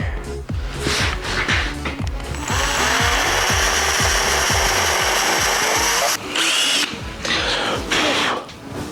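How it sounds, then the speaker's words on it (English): A power drill bores bolt holes for a homemade forge, grinding steadily at close range with a rapid rhythmic chatter, pausing briefly before starting up again. "I'm gonna attempt to use my hand drill to make these holes"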